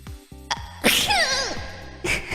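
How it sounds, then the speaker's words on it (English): A short sneeze with a strong echo effect, preceded by small breathy sounds, the burst ringing and trailing off before a second softer noise. "A little sneeze."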